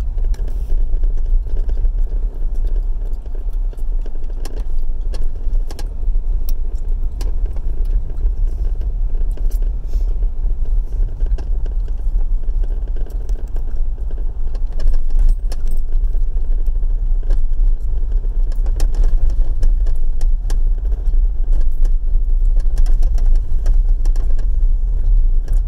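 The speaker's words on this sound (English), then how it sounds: "We're just heading down the road now. And I'll let you enjoy the drive." A car heads along a road near Cape Portland, with a loud, steady low engine drone and tyre rumble filling the cabin and small rattles and jingles on top, and no one speaking.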